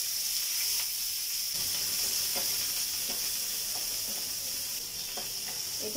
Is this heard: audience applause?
no